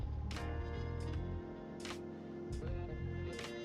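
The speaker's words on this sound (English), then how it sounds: "I am going to actually spray these pieces as well" Shimmer ink spray is misted onto paper pieces in quick bursts, a few short hissing sprays spaced out over a steady background hum.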